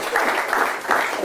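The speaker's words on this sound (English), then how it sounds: "please give him a big round of applause" An audience at a mind-reading stage show applauds a volunteer with steady, dense clapping throughout.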